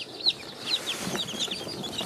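Chickens clucking and chirping in a coop, a few short, high calls repeating in quick irregular bursts against quiet shuffling.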